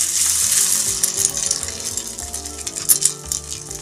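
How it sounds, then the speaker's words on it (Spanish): Egg-coated pieces of leche frita sizzle and crackle steadily in hot oil in a pan, with a bright frying hiss over soft background music. "después las vamos a pasar en huevo y las vamos a sofreír"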